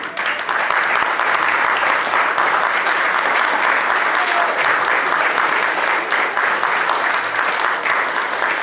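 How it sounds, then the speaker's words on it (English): Sustained, loud applause from a banquet audience at a sports hall of fame event, an even wash of clapping from many hands lasting the whole stretch without pause. "thanks for the applause"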